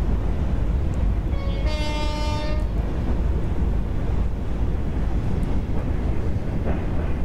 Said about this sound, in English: Freight trains.